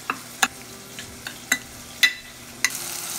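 Black bean garlic sauce being stirred in a bowl with a utensil, giving a series of irregular soft scrapes and clinks, about six distinct strokes over a quiet background.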